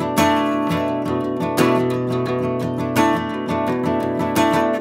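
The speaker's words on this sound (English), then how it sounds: "If I kept that chord the whole time, this strumming pattern would sound like this" Guitar strummed in a steady rhythmic pattern while one chord is held the whole time, each stroke ringing full and close, bright attacks repeating in an even groove with no voice.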